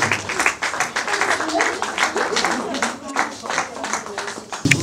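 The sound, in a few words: applause at film awards ceremony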